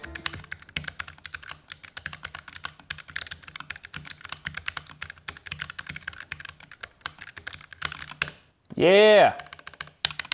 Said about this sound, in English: I want to bust out this keyboard real quick